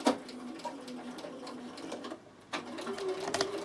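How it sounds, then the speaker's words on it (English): A Bernina sewing machine runs a seam backwards from the fabric edge, a quick mechanical whir close by that pauses briefly, then starts again. "when you're going to be sewing on something that's right on the edge, I start in and I go backwards"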